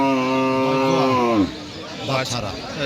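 A heifer at a cattle market gives a long, loud moo, then fades into a quieter, rougher grunt with some background noise.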